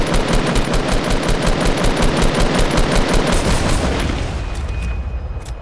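Rapid automatic gunfire from the Fortnite video game rattles in loud, tightly spaced bursts at close range, then thins out and fades toward the end.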